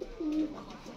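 A pigeon coos once in a low, throaty, sustained call at a rooftop loft, fairly close and clear over a quiet background.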